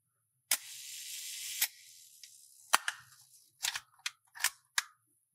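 A Leica M3 rangefinder camera firing its shutter at the 1-second speed: a sharp opening click, a soft mechanical whir lasting about a second, then a closing click, followed by several quick, crisp clicks of further handling, all close and isolated.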